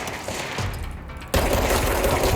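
Gunfire in the video game Control: a dense, loud burst of rapid shots that suddenly grows louder and fills the second half, with no talking over it.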